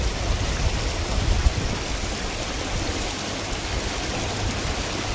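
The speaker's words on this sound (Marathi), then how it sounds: "म्हणजे झरझर झरा आहे," A stream rushes past a riverbank in the hills of Malshej Ghat, a constant broadband wash of flowing water, close and even, with no voices.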